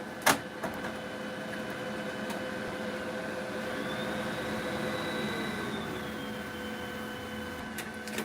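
An inkjet printer running a nozzle check gives a steady mechanical whir with a rising and falling tonal whine from the moving carriage. A few clicks and knocks mark the start and end.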